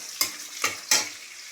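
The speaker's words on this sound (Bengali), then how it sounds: "রসুনটা একটু ভাজা ভাজা হোক।" Garlic sizzling in a pan up close, with three quick scraping stirs cutting through the steady fry.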